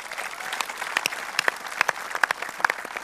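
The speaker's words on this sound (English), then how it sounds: "So please give yourselves a round of applause as well." Steady applause from an audience at a Q&A session at Garma Festival, 2017, a dense wash of clapping with a few sharper claps standing out, heard from some distance.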